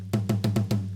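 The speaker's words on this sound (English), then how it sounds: "under the snare, there are wires that make it sound like this." Snare drum with snare wires, from a drum kit sample, struck five times in an even rhythm, each hit a sharp crack with a short rattling buzz, close and clear.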